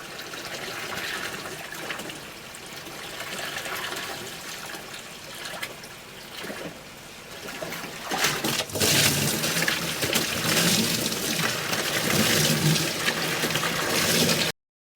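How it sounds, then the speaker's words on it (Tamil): Water pours and splashes into a moina culture tank, growing louder and more forceful partway through before cutting off abruptly at the end; no one talks. "நம்ம இப்போது ஃபுல்லாக 5 டேங்க்லேயுமே வந்து தண்ணியை ஃபில் பண்ணிட்டோம்."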